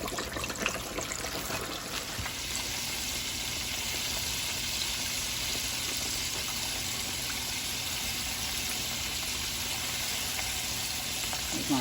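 Shrimp fry in hot oil with a continuous dense sizzle and bubbling hiss, steady and close throughout.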